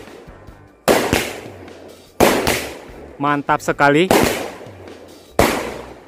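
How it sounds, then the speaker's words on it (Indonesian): Several sharp bursts from a firecracker cake crackle loudly one after another, each trailing off in hissing, with someone speaking briefly between blasts. "jadi itu dia tadi mercon cake-nya guys"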